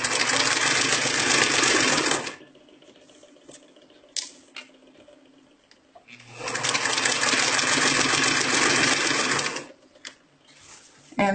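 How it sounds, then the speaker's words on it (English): A sewing machine stitches an invisible zipper in two steady bursts of rapid stitching, close and loud, separated by a pause with faint handling clicks and rustles. "So I'll come to this point, one more stitch, and then I'll backstitch a few stitches."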